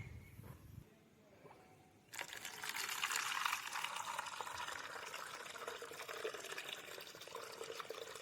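Water is poured out for stray animals to drink in Delwada village near Una, starting after a quiet moment as a steady, faint, splashing gush that runs on continuously.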